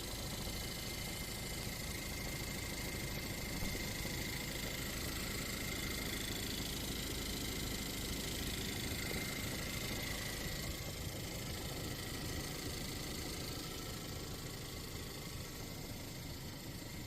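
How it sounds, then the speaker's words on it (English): A 2016 Chevy Colorado 2.5-liter engine runs steadily with a broken camshaft cap, giving a constant, even idle hum with a faint high whine and no knocks or irregular beats. "it shows how the engine runs and amazingly doesn't have engine abnormal noises."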